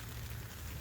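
Rain patters steadily on a hammock hot tent on a cold, rainy day, a soft, even hiss with no breaks over a brief moment.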